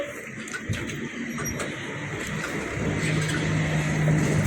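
A Hino bus with Avante H7 bodywork idles and runs smoothly, a steady low engine hum heard from inside the cabin, with a faint whine rising near the end.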